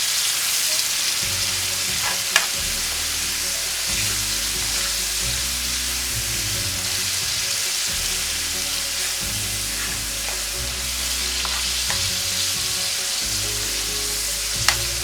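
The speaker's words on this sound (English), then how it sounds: "You stir it gently and carefully." Plantain fries in a pan with dry spices, a steady bright sizzle running throughout while a utensil stirs gently, with a couple of sharp clinks against the pan; close and continuous, no voices.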